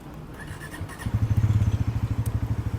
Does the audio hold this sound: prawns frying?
no